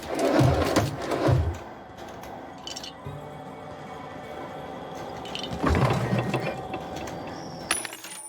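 A vending machine in the video game The Outer Worlds 2 gives off mechanical clicks and ratcheting clunks, with short bursts near the start and again around the middle over a faint background hum.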